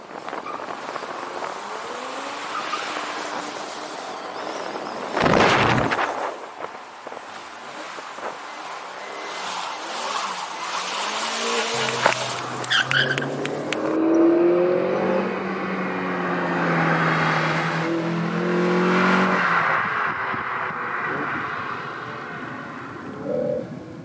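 Budget Mazda MX-5 drifting, its engine revving and droning at middling distance with wind noise, tire squeal blending in among rising and falling revs throughout.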